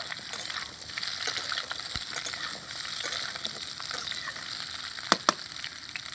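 Cut spiny gourd (kakrol) pieces frying in oil in a pan, a steady close sizzle with light crackles and a few sharp clinks of stirring throughout.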